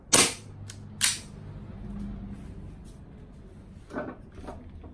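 Hicapa 5.1 gas blowback airsoft pistol running on ordinary canned gas, firing two sharp, loud close shots a second apart, then a quieter mechanical clack a few seconds later.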